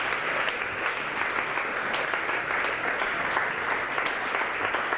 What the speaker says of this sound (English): A big round of applause for the twin poets.